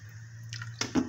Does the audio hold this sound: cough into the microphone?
no